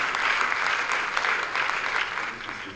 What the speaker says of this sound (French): je pense que ça mérite des applaudissements.